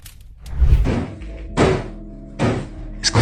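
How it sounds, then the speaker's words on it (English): Heavy thumps and knocks inside a house attic, a few separate loud impacts spaced irregularly with fainter rattles between them, close and hollow-sounding, with no talking. "Hearing weird knocking sounds in the house."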